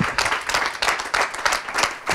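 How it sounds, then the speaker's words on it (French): An audience applauds at the close of a French conference on mentoring in healthcare professions, a dense, steady patter of many hands clapping for about two seconds, with no talk over it. "On les applaudit, ils le méritent."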